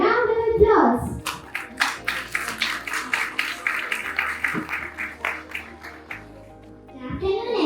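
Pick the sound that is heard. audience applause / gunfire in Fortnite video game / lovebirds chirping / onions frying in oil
audience applause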